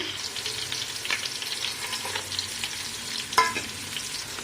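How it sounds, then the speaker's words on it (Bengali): Sliced onions and whole spices fry in hot oil and ghee, giving a steady close sizzle with scattered stirring scrapes and a sharp clink of a utensil against the pan near the end. "তো তেল আর ঘি গরম হয়ে গেছে পেঁয়াজ কাটা দিয়ে দিচ্ছে"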